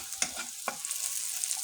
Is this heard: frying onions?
yes